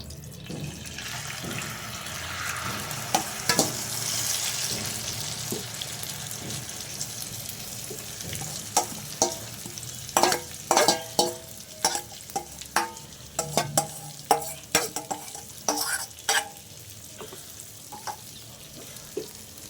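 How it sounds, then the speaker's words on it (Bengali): An egg and cabbage mixture poured into hot oil in a pan, starting as a steady hiss, then a busier crackle with sharp scraping and tapping of a utensil pressing the mixture down. "তেলটা গরম হয়ে গেছে এবার আমার মিশ্রণটি দিয়ে দিব"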